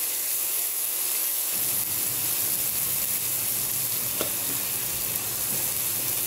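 Cumin seeds and turmeric sizzle in hot oil for tomato chutney, a dense, steady hiss and crackle that jumps up as the spices hit the pan and carries on alone up close.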